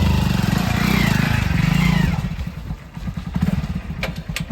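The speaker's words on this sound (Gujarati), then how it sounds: "સગન તું પકડ બાઈક ચલાવી બાઈક તું ચલાવી યાર" A motorcycle engine runs close by, with a loud rumbling drone at first that settles into a quicker, pulsing putter.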